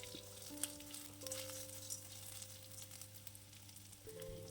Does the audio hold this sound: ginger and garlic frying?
yes